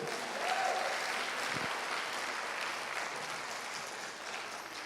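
A church congregation applauds together in a steady, dense wash of clapping that fills the room for the whole stretch, loud and sustained without easing off.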